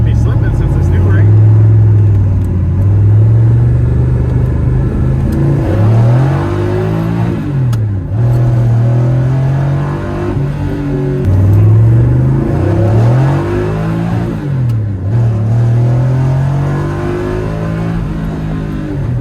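A Pontiac Fiero fitted with a V8 engine and a new clutch pulls hard on a drive, its loud close engine note rising and dropping through several gear changes, with a voice talking under the roar.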